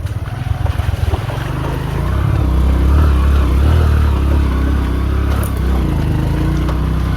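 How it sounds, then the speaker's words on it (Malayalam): A motorcycle rides ahead on a rough road in Grand Kru County, Liberia, giving a loud, steady engine rumble mixed with wind noise for several seconds, with no talking. "നമുക്ക് മുൻപിലായിട്ടൊരു ബൈക്ക് പോകുന്നുണ്ട് കേട്ടോ"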